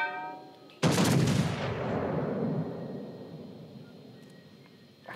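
Naval artillery from the French battleship Richelieu in World of Warships: Legends, a single heavy, booming gun blast that erupts suddenly and rolls away in a long fading rumble, loud and alone with no talk.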